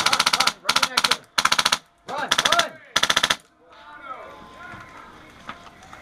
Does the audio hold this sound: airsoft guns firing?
yes